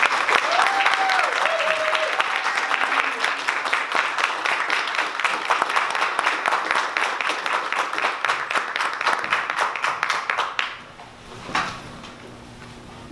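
An audience welcomes a guest speaker with sustained, dense applause, loud and steady for about ten seconds before it abruptly thins and fades, with a brief voice or shuffle near the end.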